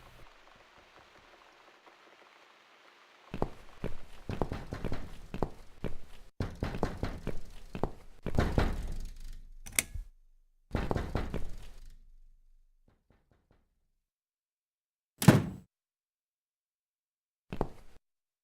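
In the video game The Cat Lady, a run of hollow knocks and thuds on a door, quiet but clear, comes in bursts after a soft rainy hush, followed by two isolated single knocks.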